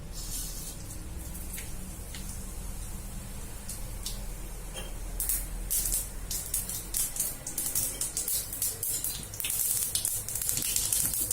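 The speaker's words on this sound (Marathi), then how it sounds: "तेल चांगलं तापलं की त्याच्यात आधी मोरी टाकायची" Mustard seeds crackling in plenty of hot oil in a kadai for kande pohe, a dense close sizzle that builds into rapid, irregular crackles and pops growing busier toward the end.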